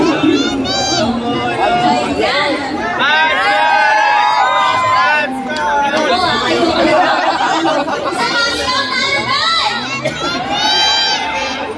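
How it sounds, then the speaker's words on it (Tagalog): A large crowd at a fan event in the SMX Convention Center in Manila screams, cheers and chatters continuously at close range, with excited shouting and children's voices on top and people talking through the noise. "Mas malakas yung sigawan."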